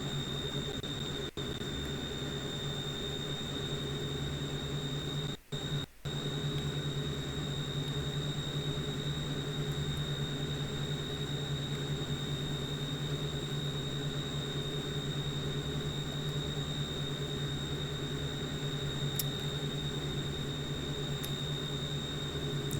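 Steady droning hum of Fairchild FH227 turboprop engines throttled back almost to idle in Microsoft Flight Simulator 2020, a constant even tone with a faint high whine over it and a couple of brief dropouts, no voices.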